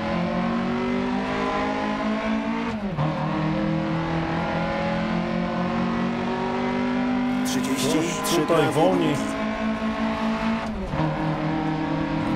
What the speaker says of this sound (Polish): Jakieś, słuchajcie, niepokojące dźwięki z silnika ewidentnie lecą.